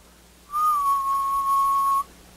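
A steady 1 kHz test tone sounds alone, clean and level, for about a second and a half, with a soft start and a sharp stop, demonstrated in an acoustics lecture.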